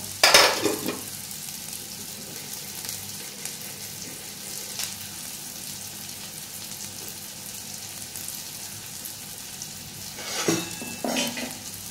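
Onion and cumin seeds frying in a pan at home, soft continuous sizzle with a louder stir and clatter of the spoon at the start and again near the end.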